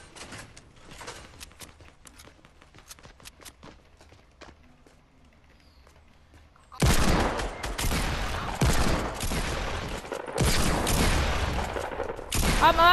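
Video game gunfire bursts out loudly after a quiet stretch with faint footsteps, several dense volleys of shots following one another over the second half.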